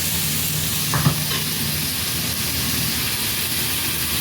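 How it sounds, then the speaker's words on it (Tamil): Finely chopped tomatoes frying with mint and curry leaves for a chutney, making a constant loud hiss with a brief clatter near the start. "பொடியாக அரிஞ்சு வச்ச தக்காளியும் போட்டுட்டேன். இப்போ நல்லா ஃப்ரை பண்ணுறோங்க."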